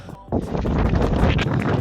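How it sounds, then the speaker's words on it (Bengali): Strong wind buffets the microphone on a hilltop during a climb, a loud broadband rumble that starts abruptly and roars steadily near the mic, with voices faintly mixed in. "একদম উপরে উঠছি, এখানে অনেক বাতাস।"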